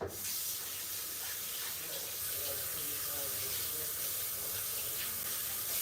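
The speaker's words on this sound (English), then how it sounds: "I'm gonna wash my hands." Tap water runs steadily into a sink as hands are washed under it, a continuous close splashing rush with brief background voice, after handling tuna at a Fort Lauderdale fishing spot.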